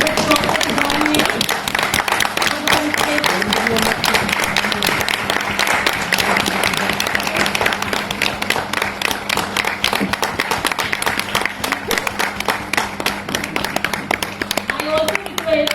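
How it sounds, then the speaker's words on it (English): An audience at an early childhood education conference in Delhi keeps up loud, sustained applause for the whole stretch, dense clapping with crowd murmur and voices underneath. "Let's have a huge round of applause for DrTPS."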